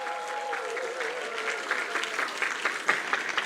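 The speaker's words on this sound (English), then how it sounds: "Let's give them a big Malaysian-style welcome with a round of applause" An audience at a church ceremony in Malaysia claps in warm welcome for VIP guests, a steady burst of applause from a sizable crowd that rises in bright, scattered peaks near the end.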